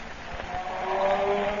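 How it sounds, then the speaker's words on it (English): A steady electronic hum from the Blue Beetle's magic ray, a sustained tone that swells slightly louder over its brief span, with low rumbling thumps beneath and no voices. "That was the sound of the Blue Beetle's magic ray."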